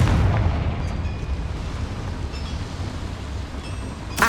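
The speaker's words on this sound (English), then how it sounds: "Confringo." Confringo explosion spell in the Hogwarts Legacy game, a deep boom that rolls into a long rumbling decay, followed by a faint sharp burst at the very end.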